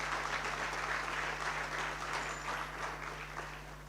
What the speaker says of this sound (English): A round of applause for Dr. Martins.